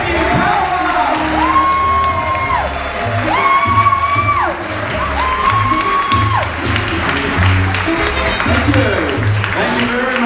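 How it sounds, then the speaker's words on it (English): A comedy club audience in Sydney claps, whoops and cheers loudly and continuously as a stand-up comedian is welcomed to the stage, with voices shouting over the steady applause. "start applauding, start going crazy, go mental and welcome to the stage, Damien."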